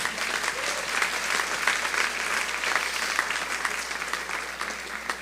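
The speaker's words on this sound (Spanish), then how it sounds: "Dale un aplauso al Señor por eso" A congregation in Monterrey claps together in sustained, lively applause, dense and fairly loud, with a low steady hum beneath it.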